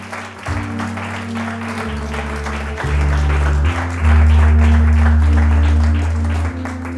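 A church congregation applauds during a French-language sermon, a dense wash of clapping that swells louder midway while sustained organ or keyboard chords drone underneath.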